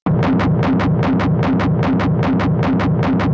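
A loud, dense, saturated Schranz-style techno drum loop with rapid hi-hat hits over a pounding, distorted low thump, relentless and driving throughout.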